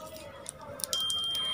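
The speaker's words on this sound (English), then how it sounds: "the buzzer gets signal and it start alarming and LED get glowing" Buzzer alarm of a homemade water-detector circuit with a transistor, triggered by water on its sensing plate, sounding a steady, sustained electronic high-pitched tone that starts abruptly after a few scattered clicks and continues loudly to the end.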